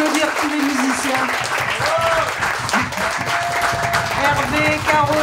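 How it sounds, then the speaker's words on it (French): An audience at a live show applauds the musicians in a steady, loud burst of clapping, while voices call and talk over the applause. "Veuillez applaudir tous les musiciens."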